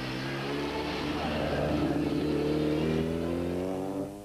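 A rally car on the 1994 Sasol Rally accelerates hard near the centre of Sabi, its engine note climbing steadily and loudly before fading at the end.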